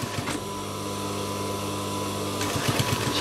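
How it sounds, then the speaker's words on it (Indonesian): A sewing machine stitches down the waistband of a pair of jeans, running as a steady close mechanical whir with a needle rhythm that picks up toward the end. "di sini kita jahit sampai ke bagian bawah"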